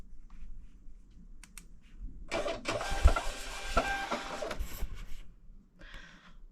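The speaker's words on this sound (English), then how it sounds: "And print it out." A printer running through an eBay shipping label, a steady mechanical whir and rattle of a few seconds with small clicks, starting after a quiet pause and stopping before a brief trailing buzz.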